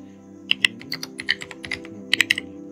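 Fingers tap out a request to ChatGPT on a mobile phone keyboard in brisk, irregular bursts of light clicks, close and clear with no voices.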